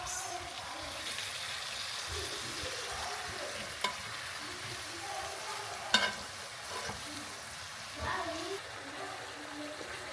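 Egg noodles with sausage and imitation crab are stirred in a pan, making a soft continuous sizzle with occasional scraping clicks and light knocks, fairly quiet throughout.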